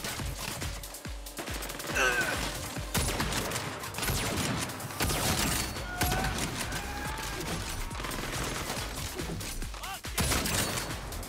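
Gunfire in the video game Saints Row, repeated bursts of shots and rapid automatic fire across the whole stretch, loud and dense with brief pauses between volleys.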